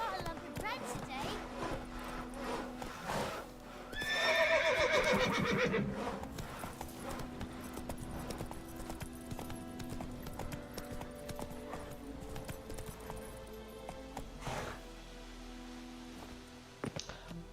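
Roach, the horse in the video game Witcher 3, whinnies loudly in a rising cry among steady clip-clopping hooves, with game characters speaking in the background.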